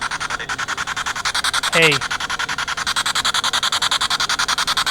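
A spirit box radio sweeps through stations during a paranormal investigation, rapid rhythmic pulsing static running steadily through the clip, with a brief voice cutting in near the middle.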